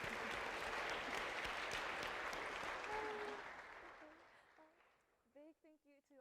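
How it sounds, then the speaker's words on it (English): Audience applause for a panel of speakers at a conference job-search event, a broad steady wash of clapping that fades out over several seconds before a voice starts talking. "Could we please give a round of applause for all our speakers?"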